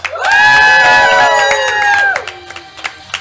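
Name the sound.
live audience cheering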